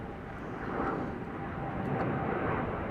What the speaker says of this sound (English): Very noisy. Emirates departure in the background.